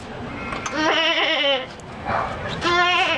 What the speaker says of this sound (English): Pimple, go check on the goat. I think she's sick.